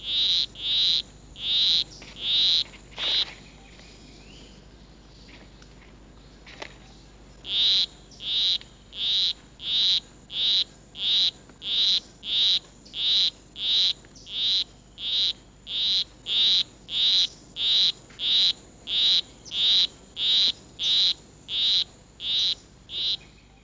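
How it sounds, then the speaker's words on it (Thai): A male poison arrow frog in a rainforest calls to a female in a long, even series of loud, regular chirping pulses, pausing briefly before resuming the same steady rhythm, with no voices present. "กบพอยซันแอโร่เพศผู้กำลังเกี้ยวพากบเพศเมียเสียงเพลงอันราบเรียบของมันคือความพยายามที่จะหลอกล่อให้เจ้าเพศเมียติดตามมัน"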